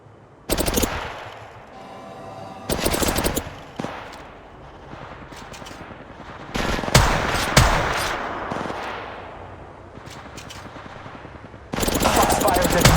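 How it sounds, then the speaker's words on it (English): Rapid bursts of automatic gunfire ring out in the mobile battle royale game Apex Legends Mobile, loud and repeated across several short volleys amid in-game sound effects. "Shots fired at me. In combat. Reloading."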